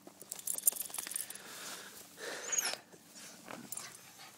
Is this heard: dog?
yes